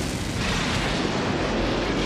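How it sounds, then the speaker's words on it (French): A loud, sustained roaring blast of a bomb explosion, dense and rumbling, filling the whole short moment without pause. "Heureusement, Excelio déclenche l'explosion de la bombe à distance."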